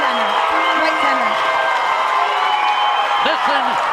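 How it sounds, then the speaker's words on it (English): Garaway fans cheer loudly at a girls' high school softball state semifinal against Gibsonburg, a dense sustained roar of whoops and clapping, with a voice speaking over it. "Listen to the Garaway crowd, won't you?"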